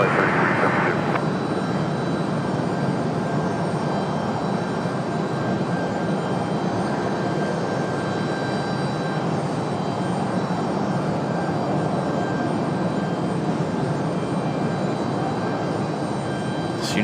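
A Frontier airliner lands on runway 23 right at Raleigh-Durham International, its jet engines a loud, continuous broadband roar with a high whine, holding steady throughout.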